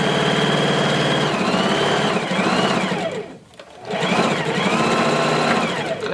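Sewing machine stitching down a skirt, a loud fast mechanical whir that slows and pauses briefly midway for a back stitch, then runs on again.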